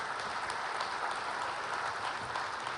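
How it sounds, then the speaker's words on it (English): Steady, dense clapping from a conference audience at Lotusphere 2011 fills the space without pause, a broad wash of many hands at moderate distance with no voices standing out. "You can clap."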